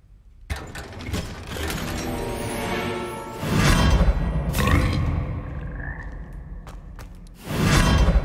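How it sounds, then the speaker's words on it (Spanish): Frogs croaking in the Hogwarts Legacy video game, loud close croaks in bursts amid whooshing game effects and mechanical sounds, no talk. "Un poco asqueroso lo de las ranas"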